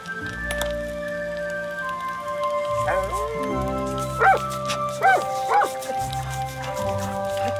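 A dog in Baldur's Gate 3 gives a few short barks and yips spaced across several seconds, mid-distance, over a soft sustained game music bed.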